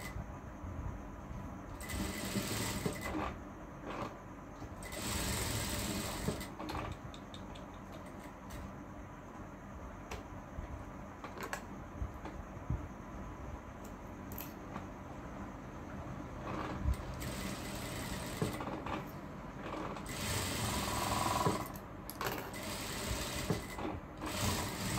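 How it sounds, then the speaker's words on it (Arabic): A sewing machine stitches a summer dress with side pleats, its motor whirring in repeated runs of several seconds separated by brief pauses, close and steady with no talking. "نبدي نخيط بسم الله"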